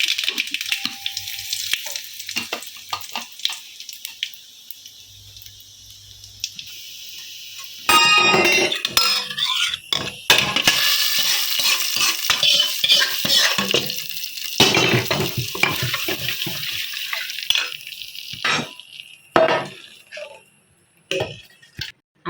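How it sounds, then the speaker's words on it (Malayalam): Dried chillies and mustard seeds spluttering in hot oil for a tempering, a faint crackle at first, then a loud, dense sizzle and popping that runs steadily to the end. "കുറച്ച് എണ്ണ ഒഴിച്ച് ഉണക്കമുളക് കുറച്ച് കടുകും പൊട്ടിക്കാം"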